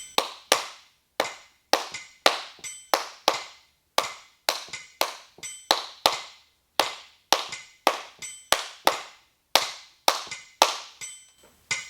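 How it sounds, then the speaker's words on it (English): Crisp, close hand claps in a rhythmic pattern for a music lesson exercise, sharp single and paired strikes with short gaps, repeating steadily for about twelve seconds in a quiet room with no talk. "This is claps, okay?"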